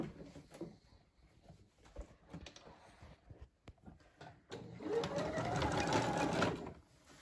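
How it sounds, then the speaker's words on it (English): Some soft handling and rustling, then a sewing machine starts up and runs steadily for a couple of seconds, whirring and stitching fabric for a bandana dress close by. "but with the sewing machine"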